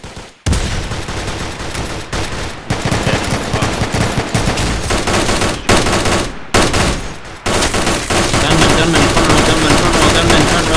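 Rapid bursts of automatic gunfire from a gunman in the front row at a joint ceremony event in Berkeley County, loud and nearly continuous with a few brief gaps, over shouted voices.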